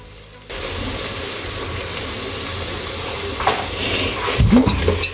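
Onions sizzle steadily in hot oil after a sudden start, with occasional stirring scrapes and clatters toward the end.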